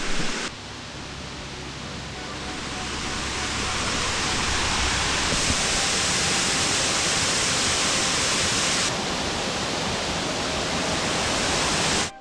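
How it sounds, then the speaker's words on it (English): Oconee Falls in South Carolina roars in a steady, dense rush of white noise that swells slightly and holds loud and constant throughout. "This is Oconee Falls, I believe it's pronounced."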